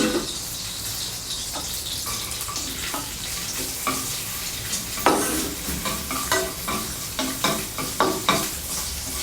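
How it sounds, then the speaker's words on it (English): Char siu barbecue pork fries in hot oil with a constant crackling sizzle, broken by repeated scraping stirs of a spatula that grow more frequent and rhythmic toward the end. "I'm going to use the remaining oil to fry the Char Sius or the barbecue pork"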